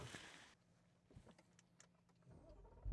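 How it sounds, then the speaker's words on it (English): A 2017 Audi RS6 is switched on in a quiet cabin. A few soft clicks and whirs come first, then the engine fires with a sudden loud, low burst at the very end. "I will just turn the car on and show you."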